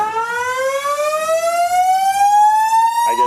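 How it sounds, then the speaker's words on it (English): A loud fire alarm sounds at a press conference in a building, a steady rising electronic siren tone with strong harmonics that fills the whole moment, with no talk over it. "a fire alarm went off during the Adam Gase press conference today"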